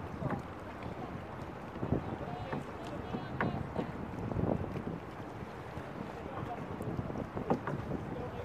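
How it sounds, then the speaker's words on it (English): A dragon boat crew paddles in a race, with light splashing strokes and wind buffeting the microphone outdoors, while voices are faintly heard in the background. "Okay, light paddling, paddles up."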